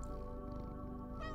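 Cat meowing as it is petted in the samurai action game Loopmancer, a few short mews over a steady game soundtrack hum, close and moderately loud.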